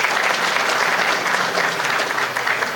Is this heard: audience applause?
yes